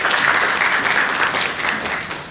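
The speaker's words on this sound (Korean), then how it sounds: "한 번 더 박수 받아야지 긴장이 좀 덜 돼서요." Steady, fairly loud applause from an audience at a Korean academic conference lecture on research ethics, many hands clapping together in a continuous wash that tapers slightly at the end.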